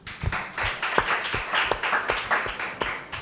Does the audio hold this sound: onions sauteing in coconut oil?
no